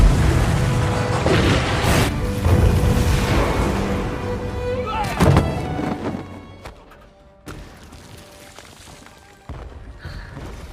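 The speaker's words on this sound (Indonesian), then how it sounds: "pasukan asing yang juga menjadi sekutu Cao Man menembakkan artileri secara membabi" Artillery fires on a temple in the 2011 film Shaolin as heavy booms and crashes with a dense rumbling roar. Sharp impacts punctuate the din before it fades to scattered thuds.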